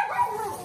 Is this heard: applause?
no